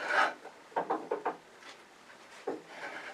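A Beall tap cutting threads into a wooden faceplate blank, heard as a brief rasp followed by a quick series of short, distinct scraping and creaking pulses as the tap is turned through the wood, close and fairly quiet, with no talking.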